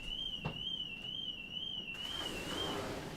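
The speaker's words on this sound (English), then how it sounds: "Sounded like somebody's alarm system or something." Steady warbling whistle of an alarm system sounding in the distance, a thin high tone wavering evenly for a few seconds before fading out, over faint background noise.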